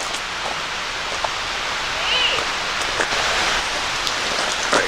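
Steady broadband rush of flowing water on a trail near Overall Run Falls in Shenandoah National Park, a continuous hiss with small splashy peaks and faint birdsong.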